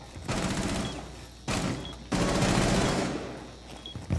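Rapid automatic gunfire in a ranked Rainbow Six Siege match comes in three loud, sustained bursts, the last and longest rolling on for about two seconds before easing off.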